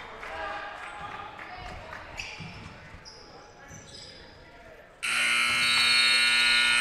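A loud, sustained electronic buzzer blares in a gym to end the half of a junior boys all-star basketball game, cutting in abruptly after crowd noise and a commentator's voice and holding steady to the end.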